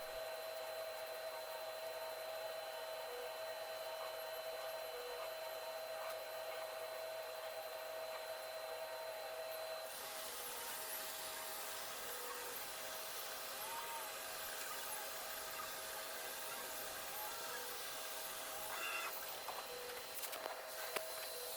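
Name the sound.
laser cutter cutting 4mm plywood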